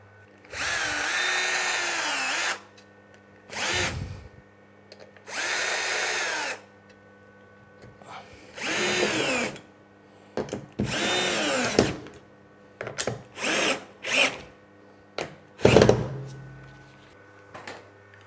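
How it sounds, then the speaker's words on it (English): A power drill drives screws through a clamp block into timber for a boat frame. Several close, loud whirring bursts come at first, then shorter quick bursts as each screw seats, with clicks and knocks between them and no speech. "then I can screw it in place with this little clamp block"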